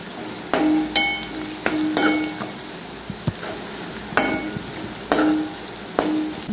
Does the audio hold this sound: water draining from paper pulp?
no